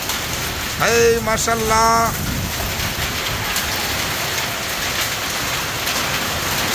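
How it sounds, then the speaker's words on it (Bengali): Heavy rain pours steadily during a thunderstorm, a dense constant hiss of drops on surfaces, with a voice speaking briefly near the start. "কঠিন এক বৃষ্টির অবস্থা চলতেছে।"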